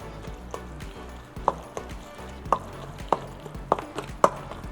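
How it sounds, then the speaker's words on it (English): Guacamole being mixed in a bowl, with a steady run of sharp knocks and clicks spaced roughly every half second over a soft background. "And now it is time to mix."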